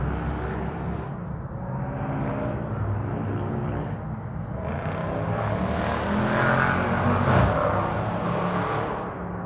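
A car engine drones and revs steadily for several seconds, loud and close, the pitch swelling as the vehicle slowly accelerates away, with no talk over it.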